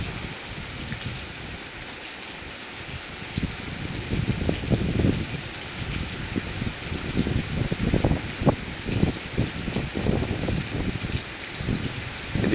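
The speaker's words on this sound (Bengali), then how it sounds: "বৃষ্টি তো আজকে সারাদিনও বন্ধ হইতো না বৃষ্টির অবস্থা কাহিল" Heavy rain with wind pours down in a steady wash, with bursts of louder drumming splashes spread through the stretch, and no voices over it.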